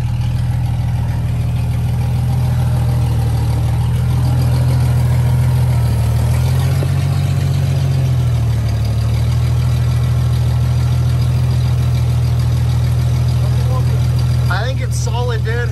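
A vehicle engine cranks and runs rough with heavy exhaust smoke, barely catching before settling into a loud, steady low rumble that swells briefly midway, with no talk over it.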